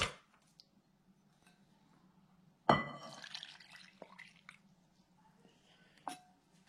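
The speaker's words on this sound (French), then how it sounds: "On va y rajouter l'eau des cèpes." Porcini soaking water pouring into bread dough in a short wet splash that trails into drips and squelches, followed by a few isolated taps and clinks in an otherwise quiet kitchen.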